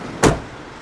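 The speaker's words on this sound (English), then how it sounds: "So if we shut the door" A Mercedes Vito Sport 116 van door shuts with a single solid thud, close and loud, followed by quiet.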